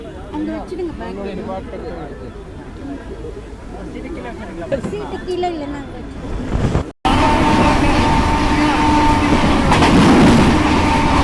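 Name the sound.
Brindavan Express train departing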